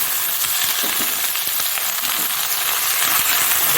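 Tomato, spring onion and green peas fry in a hot wok, giving a loud, continuous hissing sizzle with faint scraping clinks throughout.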